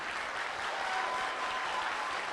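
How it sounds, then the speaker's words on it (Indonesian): A seminar audience applauds hard on cue, a dense, steady wash of many hands clapping without a break, close and loud throughout. "Tepuk tangan lebih keras."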